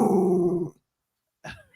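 A dog gives a sustained low growl close by, then goes quiet for a moment before a short, higher whine or yip.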